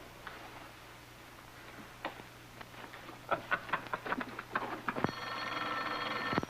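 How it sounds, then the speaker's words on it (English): A shore telephone's bell rings out loud and sustained in the last second and a half, preceded by scattered clicks and knocks over a low steady hum. "The shore phone."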